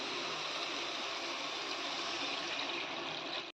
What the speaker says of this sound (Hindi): एथिरे आमे एबे पानी पके दबा।